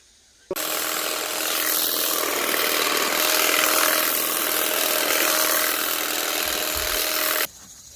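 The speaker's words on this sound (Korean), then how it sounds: "잔디밭에 경계 있는 데를 미리 이걸로 이렇게 깎고" A Makita DUM604 cordless grass shear trims the edge of a lawn, a steady buzzing cut that starts abruptly, runs loud and close for about seven seconds, then stops sharply, with no talk.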